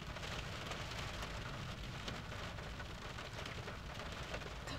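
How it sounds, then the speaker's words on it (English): Heavy rain pours down steadily in a dense, unbroken hiss of drops hitting surfaces outdoors, constant and fairly loud throughout with no voices. "Wow, that rain's just coming down."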